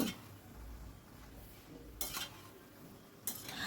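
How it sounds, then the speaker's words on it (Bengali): A spoon stirs ash gourd with rice in a pan, making soft continuous scraping broken by two sharp metallic clinks, close and quiet with no talking. "এবারে সব কিছু ভালো করে মিশিয়ে নিচ্ছি"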